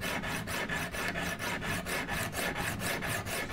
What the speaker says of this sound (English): I'm just going to sharpen one side of the blade using a scrubbing motion